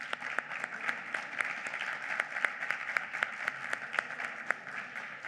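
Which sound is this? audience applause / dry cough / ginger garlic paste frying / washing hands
audience applause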